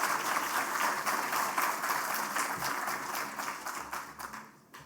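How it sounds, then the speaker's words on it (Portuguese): An audience applauds to welcome speaker Leandro Roque at a talk on the Brazilian economy, sustained dense clapping from a large crowd in a hall, fairly distant, tapering off at the end. "Leandro Roque, por favor, uma salva de palmas."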